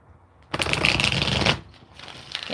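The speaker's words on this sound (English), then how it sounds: "I'm going to shuffle these again because I just dropped them." Deck of oracle cards being shuffled by hand, a close, crisp burst of riffling paper lasting about a second, followed by softer rustling as the cards settle.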